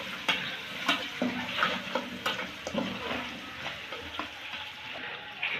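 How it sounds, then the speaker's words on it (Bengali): Chopped garlic lightly frying in a pan after dried chillies, a steady soft sizzle broken by repeated scrapes and taps of a stirring utensil, close and fairly quiet with no talking. "রসুন কুচিটা হালকা ভেজে নেব।"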